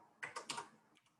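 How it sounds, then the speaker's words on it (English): A few quick, quiet keystrokes on a computer keyboard, clustered in a short burst followed by two softer taps, close and alone. "we're going to start typing in here."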